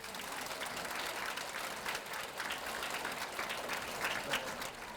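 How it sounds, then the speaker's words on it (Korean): A church congregation at a Catholic retreat lecture claps together in sustained, even applause, moderately distant and filling the room for several seconds. "오늘 축일인데 자 박수."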